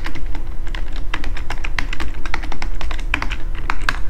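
Quick, uneven keystrokes clatter on a computer keyboard while JavaScript code is typed, a close, dense run of crisp taps lasting several seconds with no talking.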